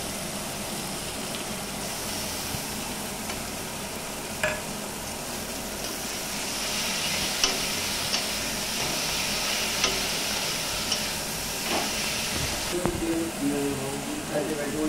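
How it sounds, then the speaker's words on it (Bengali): Chilli, onion, turmeric, Kashmiri chilli powder and spices fry in a pan, giving a steady close sizzle with occasional stirring scrapes, while a voice talks over it. "মশলাটি ভাজা হয়ে গেছে"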